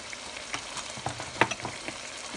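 Cinnamon stick, minced and whole cumin sizzle in hot oil in a pot for Pakistani chicken shorba, a steady close crackle broken by a few sharper pops as the spices fry.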